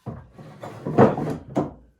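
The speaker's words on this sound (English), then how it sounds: "this is like almost a jewelry box drawer" A small wooden dovetailed drawer, jewelry-box size, slides in and out of its case, giving a few close, soft scraping and bumping strokes that rise and fall over two seconds.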